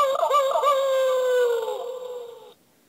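An electronic howl effect from a Garulu Saber toy sword (Kamen Rider Kiva) plays once, loud and close, a wavering wolf-like wail that slides down and fades before cutting off.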